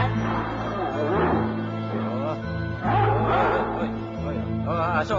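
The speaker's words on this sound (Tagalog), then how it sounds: "Aso." Dog barking mixed with talk and background noise, in repeated yips and barks across the clip.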